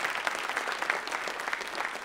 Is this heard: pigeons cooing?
no